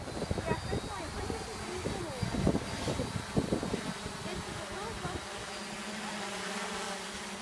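A DJI F550 hexacopter drone flies nearby with a thin, constant insect-like buzz, heard under close conversational voices and light wind.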